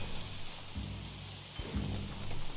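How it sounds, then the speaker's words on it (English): Steady rain falls in the video game Biomutant, a dense continuous hiss with low rumbling thunder swelling beneath it, and no voices. "That better be rain."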